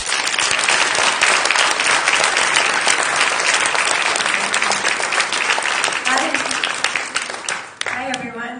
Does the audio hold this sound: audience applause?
yes